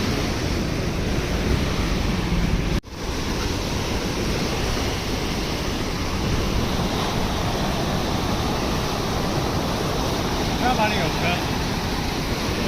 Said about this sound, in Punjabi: ਸਤਲੁਜ ਦਰਿਆ ਦੇ ਉੱਪਰ ਪਹੁੰਚੇ ਹੋਏ ਆ ਚੱਲ ਰਿਹਾ ਬਾਈ ਪਾਣੀ